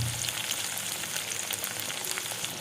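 Mustard seeds sizzling in hot oil for a garlic kuzhambu, a close, continuous crackling hiss with tiny pops scattered throughout, no talking.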